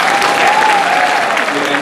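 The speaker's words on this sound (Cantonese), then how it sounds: "Please give him a round of applause" An audience at a newspaper's anniversary gala dinner in Vancouver breaks into loud, dense applause. The clapping fills the room as an even wash, and a voice is heard over it.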